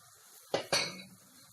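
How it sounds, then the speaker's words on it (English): Blended pepper goes into a stew pot with two quick metallic clinks of utensil against pot, close and fairly quiet, then a soft wet settling. "Now I add my pepper,"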